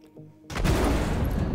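A size 1 missile strikes the shields of a Sabre fighter in Star Citizen, a sudden loud blast after a brief quiet lead-in that swells into a sustained, dense rumbling roar lasting to the end.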